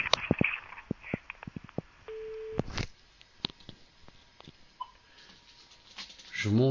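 Telephone tone after a call is hung up, a steady tone of about half a second among scattered clicks and line noise, with a short burst of noise at the end.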